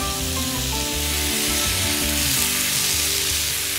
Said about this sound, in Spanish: vamos a regresar a la sartén pues los vegetales y el pollo que previamente habíamos salteado